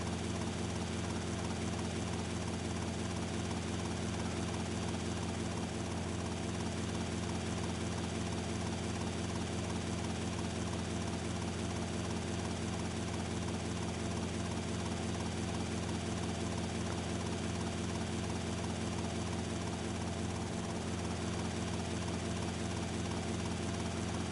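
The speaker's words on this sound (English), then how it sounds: "It's a fast-moving little helicopter here." A fast, small helicopter flies in the video game GTA Vice City Definitive Edition, its rotor and engine making a continuous, even droning whir that holds steady throughout without talk.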